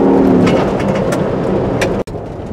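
A 2023 Ford Bronco Wildtrak with the 2.7L engine on the move, giving a steady, broad rumble of engine and road noise that holds nearly level throughout, with a brief cut near the end.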